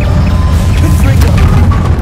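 A Confringo fire spell explodes in the video game Hogwarts Legacy, a loud, dense booming blast that fills the whole clip with continuous rumbling roar and crackle.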